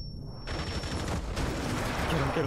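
Rapid gunfire in Rainbow Six Siege, a dense continuous burst of shots that starts abruptly and keeps going loud and close.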